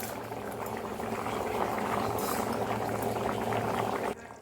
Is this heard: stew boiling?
yes